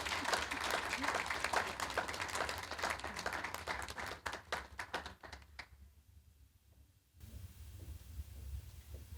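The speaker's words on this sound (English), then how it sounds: "So let's give a warm round of applause for Ms." Audience applause at an evening tribute event honoring Black women in law, a dense wash of clapping that thins into scattered claps and fades to room tone.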